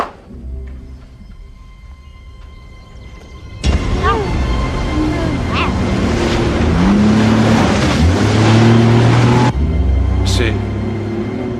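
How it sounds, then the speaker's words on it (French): After a quiet, low hum, an engine suddenly roars to life and keeps running loud and steady, with voices talking over it. "C'est un moteur qu'on entend."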